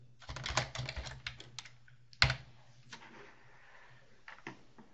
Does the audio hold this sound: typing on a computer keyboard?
yes